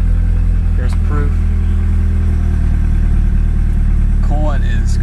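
A Mitsubishi Evo 8 with a 2.3L engine running on E85 idles cold at a steady low rumble, with faint tonal whines in the background.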